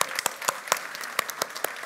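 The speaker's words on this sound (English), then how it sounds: "Can we please have a round of big applause?" Sparse applause from a small audience after a conversation event, a handful of distinct claps at an uneven rhythm, fairly faint and close, with no talking.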